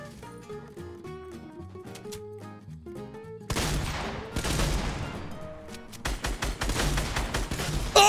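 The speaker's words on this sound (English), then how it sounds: "Oh, I got shot in the back" Rapid gunfire bursts in the Fortnite Battle Royale video game, loud and dense after a quieter stretch with music, with repeated volleys of shots continuing to the end.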